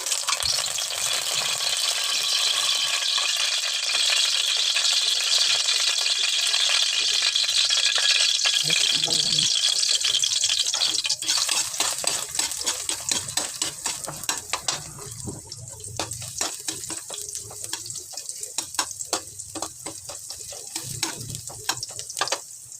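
Leftover pork liempo sizzling in a pan as sayote and cabbage are cooked, a steady loud hiss at first that gives way to stirring clatter and sharp utensil clicks over quieter frying.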